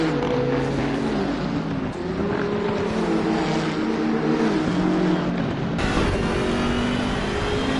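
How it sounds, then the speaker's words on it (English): On board a BMW 6 Series race car chasing a Nissan GT-R, a loud, sustained engine roar drones on with shifting pitch and wind rush, with no talking. "we're on board with Chris in the 6 Series BMW chasing the GTR."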